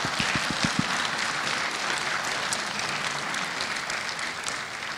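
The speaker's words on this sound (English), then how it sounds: "can we please join me in giving all of our sponsors a huge round of applause?" A conference audience gives the event sponsors a round of applause, steady dense clapping filling the room throughout, with a few louder individual claps standing out near the start.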